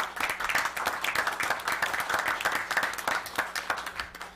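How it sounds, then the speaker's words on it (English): A room of people at a regular meeting clapping for an employee's recognition, a dense, even round of applause lasting several seconds before thinning out at the end. "let's give her a round of applause for the record."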